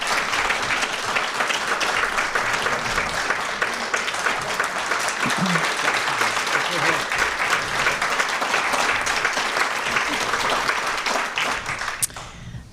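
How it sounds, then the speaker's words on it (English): A public safety meeting audience applauds in a dense, sustained burst of clapping that holds steady for about twelve seconds before tapering off, with a faint voice near the end. "Could I hear a round of applause for both of them?"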